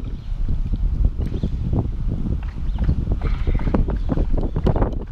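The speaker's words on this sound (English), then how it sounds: "It is really windy outside." Gusty wind buffets the microphone outdoors beside a 2008 Audi 2.0T, producing loud, rumbling low thumps and rushing noise throughout.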